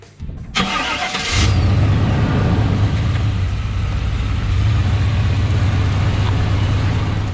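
A 1995 Chevrolet Tahoe with a 2-inch lift and 35-inch tires, heard from inside as it sets off on dirt: a brief clunk and surge, then a steady, loud, low engine and road rumble that holds throughout.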